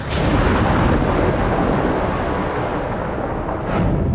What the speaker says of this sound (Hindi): गाजा में शुक्रवार को कई धमाके हुए।